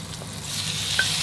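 Boiled, sliced pork frying in oil in a wok, a steady close sizzle with faint stirring and one brief sharp clink near the end.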